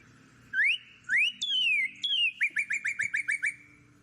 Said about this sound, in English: That was a northern cardinal.